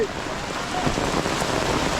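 Rain pouring steadily at a Radha Govinda and Kali temple in Gaibandha, a dense close hiss of drops falling on surfaces with no talk.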